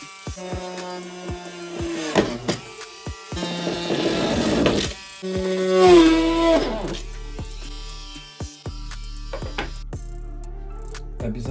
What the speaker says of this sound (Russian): Далее нужно просверлить 4 отверстия для крепежа.